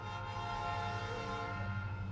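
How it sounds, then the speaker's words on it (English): Train passing at a distance, a steady low rumble with a faint horn tone mixed in, heard from inside a parked car with no talking. "There's a train coming. So there's the noise for the video"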